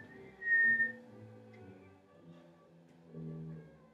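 A beginner on bassoon sounds a few low, reedy, wavering notes that are quiet and unsteady, with a short higher squeak near the start and a louder swell toward the end.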